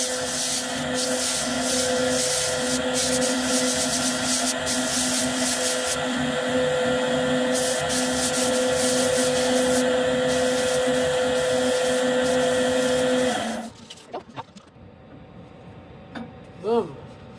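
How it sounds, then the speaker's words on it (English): A power sander working a wooden end-grain bowl, a steady loud whirring hum for about thirteen seconds that then cuts off, leaving faint handling sounds. "let's sand this thing."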